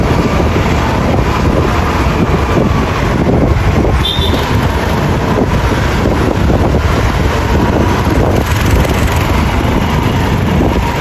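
Strong wind buffets the microphone outdoors, a constant loud rumbling roar with gusty fluctuations and no speech over it.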